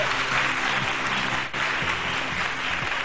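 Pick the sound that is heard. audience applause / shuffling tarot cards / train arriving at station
audience applause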